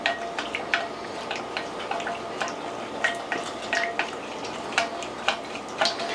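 Homemade hot Chinese chili oil stirred in a container after a splash of black vinegar, giving a series of light, irregular clinks and taps of a utensil against the side, close and fairly quiet with no talking.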